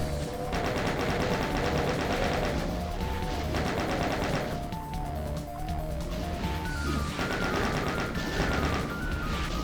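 Chaingunner enemies in the game Doom firing their chainguns, rapid rattling bursts of automatic fire that run continuously amid other game effects.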